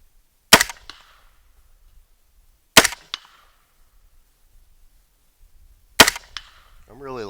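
Three sharp rifle shots fired from a rifle resting on a Feyachi B13 M-LOK bipod, spaced a couple of seconds apart, each a loud crack with a short echo tail and quiet between, a brief voice at the very end.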